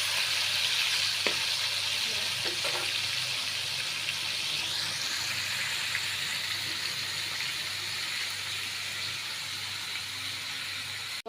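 Marinated meat frying in hot oil makes a soft, steady sizzle at moderate distance, with a few faint clinks and a brief watery pour partway through, and no talk.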